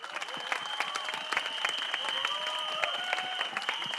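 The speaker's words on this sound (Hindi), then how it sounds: "तो क्या आप अपना प्यार और अपना हौसला इन्हें देंगे तालियों के जरिए?" Audience applause at a film teaser launch event in India, a steady spread of crowd clapping under a sustained tone and a faint voice, lasting about four seconds at moderate level.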